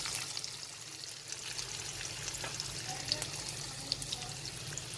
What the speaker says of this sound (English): we will start immediately putting the onions